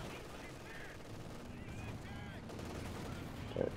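Battle sounds in Company of Heroes 2 with anti-tank guns, faint scattered gunshots and distant booms beneath a steady background, plus a brief louder hit near the end, while someone talks.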